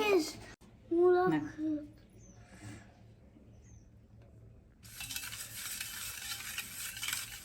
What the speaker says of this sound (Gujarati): તો આ રીતે સારી રીતે બધું મિક્સ કરી દેવાનું છે